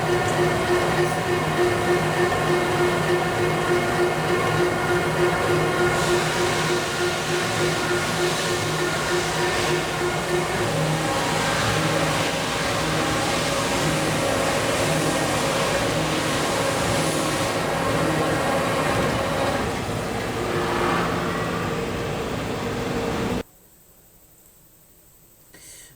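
A horizontal honing machine works a workpiece on a cylindrical block, giving a loud continuous mechanical rumble and drone with steady hum tones that runs unbroken for a long stretch, then cuts off abruptly to near silence near the end.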